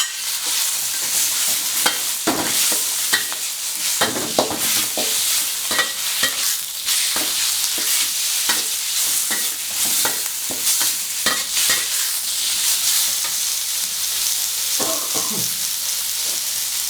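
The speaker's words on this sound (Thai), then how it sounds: "ผัดจนมันเหลืองนะครับ" Loud, steady sizzling of wide rice noodles and chicken stir-fried in oil in a hot wok for pad kee mao, with frequent scraping and clanking of a utensil against the pan.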